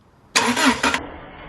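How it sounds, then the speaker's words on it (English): A Subaru engine with a misfire cranks over during a coil pack test, giving two quick bursts of starter churning close by, followed by a quieter lingering hum. "Alright, yeah, it's cranking."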